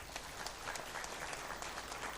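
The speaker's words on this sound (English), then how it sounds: "Please join me, ladies and gentlemen, in giving a big round of applause to our host" At a Commonwealth tax administration technical conference in Nigeria, the audience gives a round of applause that stays even and fairly faint for its short length, with a steady patter of clapping and no speech.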